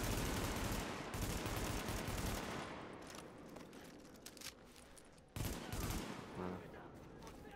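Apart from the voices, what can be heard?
gunfire in video game The Division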